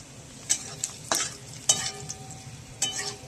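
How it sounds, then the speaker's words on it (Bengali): Garlic, dried red chillies and nigella seeds fry in oil in a pan, with a few sharp scrapes and knocks of stirring over a low, steady sizzle, heard close with no talking. "দেখুন রসুন, শুকনো লঙ্কা, ভেজে নিচ্ছে"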